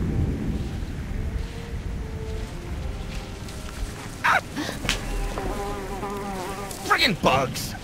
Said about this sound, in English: Friggin' bugs!